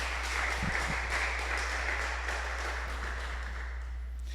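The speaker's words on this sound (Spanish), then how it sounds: "denle un aplauso al Señor." Church congregation applauding the Lord during a service, a sustained, even crowd clapping heard at moderate distance over a steady low hum, with no voices.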